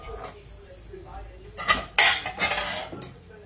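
Plates, dishes and cutlery clattering and clinking close by in a home kitchen while bulalo is being cooked, in a few quick bursts of handling.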